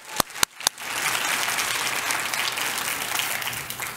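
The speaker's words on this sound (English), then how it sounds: "And let's give our praise team another round of applause." Audience applause at a business school graduation ceremony, opening with a few sharp separate claps before swelling into a dense, sustained ovation that holds steady for several seconds.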